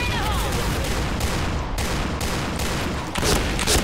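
Gunfire in the video game Point Blank: a dense, continuous rattle of rapid shots with no breaks, loud and close, with a few heavier bursts near the end.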